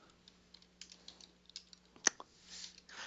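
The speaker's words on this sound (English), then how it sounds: "I'm typing up a post where I call somebody a scrub lord" Soft, scattered keystrokes tap on a computer keyboard at an irregular pace, with one sharper click standing out midway, all quiet and close against a low background hum.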